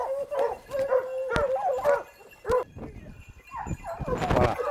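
Bruno du Jura hunting dogs bay and yelp on a scent trail outdoors, with repeated baying calls in irregular bursts at moderate distance and someone talking in between.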